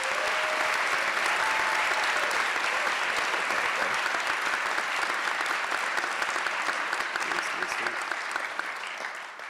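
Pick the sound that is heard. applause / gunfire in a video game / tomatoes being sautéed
applause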